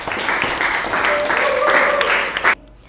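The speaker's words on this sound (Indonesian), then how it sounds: "Beri tepuk tangan buat Tegar." A classroom audience of students applauds a classmate with brisk, overlapping clapping under some background voices. It runs at a steady level for about two and a half seconds, then cuts off abruptly.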